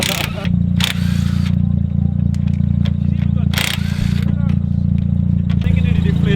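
A Mazda RX8 idles in a steady, loud, low drone at a drift day on Crail Raceway. The engine is close, with a few sharp bursts and clicks on top and faint voices nearby.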